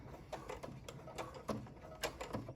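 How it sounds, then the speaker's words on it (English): A sewing machine stitching forward and then back stitching: faint, quick mechanical ticking and whirring bursts come in short uneven runs at low volume. "you're going to forward stitch and then 3 stitches and then back stitch"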